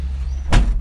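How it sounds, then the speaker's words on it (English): A sliding window on the cab door of a new Cat 308 ECR excavator slides along its track in one quick scraping swish over a steady low machine hum. "so you can just slide your window open if I want to talk to anybody"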